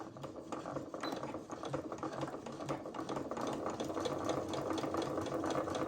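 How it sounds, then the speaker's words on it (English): A sewing machine stitching a seam on a T-shirt dress, running steadily and close with a fast, even mechanical whir and rhythmic needle clatter throughout. "I'm just going to make a quick seam, and I can backstitch here"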